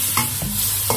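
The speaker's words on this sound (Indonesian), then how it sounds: "Kita aduk-aduk." Wood ear mushrooms and bamboo skewers stirred in a pot of boiling water, the steady bubbling hiss broken by a few short scraping strokes of the utensil, close and clear with no voices.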